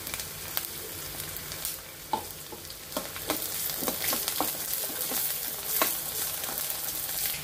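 Sliced onion frying in a pan as the base for a Marathi-style prawn curry, a steady close sizzle broken by repeated sharp scrapes and taps of a spoon stirring, growing slightly busier toward the end, with no talking.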